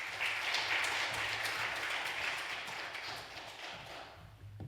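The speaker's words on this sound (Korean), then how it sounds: "박수로 맞아주시기 바랍니다." An audience at a church gathering in Seodaemun claps in welcome, a faint, steady wash of applause that thins out toward the end.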